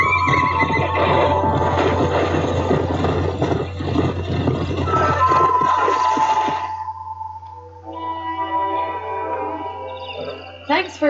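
Horse in the Red Dead Redemption video game, a stallion, letting out loud, close whinnies and neighs amid game noise, the long call fading before a final short snort.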